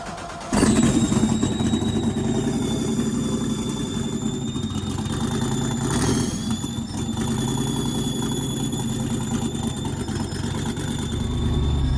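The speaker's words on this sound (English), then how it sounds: "Put her neutral, fire this rig up, man. You're good. Let's twist that, ignition, and hold the starter now." A Chevrolet S-10 truck engine cranks and catches, then settles into a steady, close idle with a thin, high alternator-belt squeal whining above the running engine.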